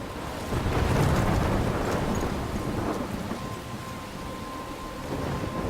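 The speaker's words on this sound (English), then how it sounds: "I'm trapped in a storm?" A thunderstorm in the video game Life Is Strange: heavy, steady rain with a deep rolling rumble of thunder swelling early on, then a constant downpour hiss continuing without voices.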